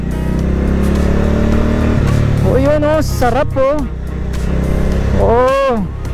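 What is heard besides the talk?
Benda Napoleon 450 motorcycle engine during test ride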